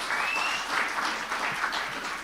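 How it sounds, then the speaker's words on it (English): Audience applauds at the launch of the Mafori Cup during a media briefing, a steady dense clapping that fills the room for a couple of seconds without a break. "Can we give Mafori Cup a big round of applause?"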